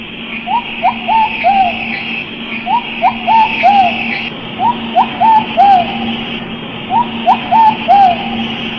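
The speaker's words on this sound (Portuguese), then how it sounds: "Um pombo selvagem arrulha tristemente." A wild pigeon coos in a repeated mournful phrase of three or four soft notes, heard four times at a steady pace over a constant high insect-like drone and low hum.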